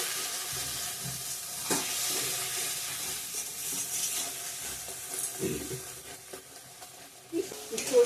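Ground turmeric, chili, coriander and cumin sizzle in hot oil in a pan for a rohu fish curry, a steady low frying hiss with a few soft stirring scrapes, fairly quiet throughout.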